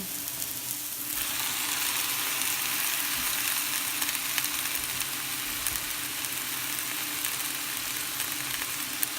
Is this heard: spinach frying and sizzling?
yes